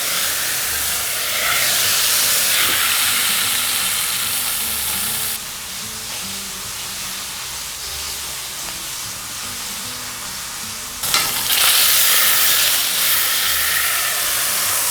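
Lamb sears in a pot for a braise, giving a loud, steady sizzle and hiss that briefly drops quieter mid-way as the pieces are flipped, then surges back to full strength.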